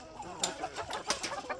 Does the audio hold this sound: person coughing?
no